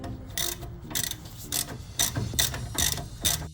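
A wrench ratchets on the sway bar end link nuts of a Jeep Wrangler LJ, giving a series of sharp, close clicking bursts in an uneven rhythm, about eight strokes, with no talking.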